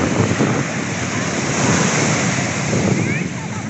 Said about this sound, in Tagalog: Sarap sana maligo kaya lang malabo ang tubig. Malakas ang alon.